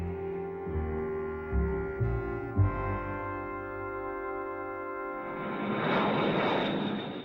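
Heavy B-52 bomber engines drone in a steady, sustained roar with tonal layers. A few louder swells come through, and the sound shifts to a broader rushing noise near the end, with no voices.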